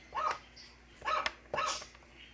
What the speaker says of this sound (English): so we change that so we get a dog sound